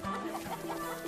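A chicken clucks in a scene from the 2020 film Mulan, giving a few brief, soft clucks inside a dense, busy background.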